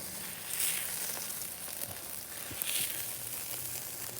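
Bacon and mini burger sliders sizzle on a Blackstone Tailgater griddle with a steady, soft hiss and faint crackle that swells slightly now and then, heard alone.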